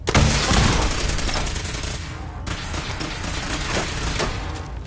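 Dense, sustained gunfire from the video game Fallout 4 on PS5, a loud continuous fusillade of rapid shots with booming thuds, steady throughout with no pauses.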